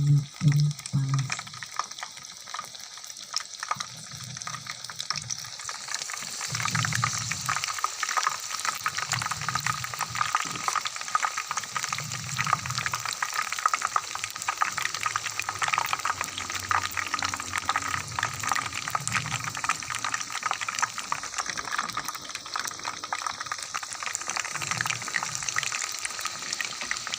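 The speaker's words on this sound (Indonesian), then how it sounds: "Lalu kita masukkan ke dalam minyak yang panas." Flour-coated meat pieces fry in hot oil, giving a steady, dense sizzling hiss that runs continuously throughout, with soft low bubbling pulses underneath.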